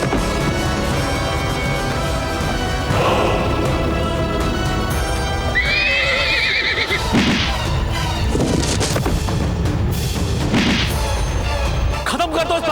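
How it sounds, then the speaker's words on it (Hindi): An agitated horse in a historical Indian battle drama whinnies loudly once amid heavy thuds, booms and clashing battle sounds, all set against a constant dramatic score. "खत्म कर दो इस पागल घोड़े को।"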